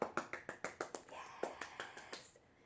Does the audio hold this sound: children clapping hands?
yes